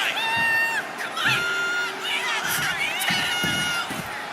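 A loud arena crowd in the WWE 2K25 wrestling video game cheers and whoops in sustained, rising bursts, high-pitched shouts layered over a dense roar.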